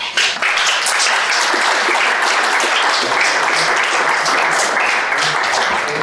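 An audience at a public political meeting on European policy applauds after a screened video, dense, steady clapping from many hands sustained for about six seconds.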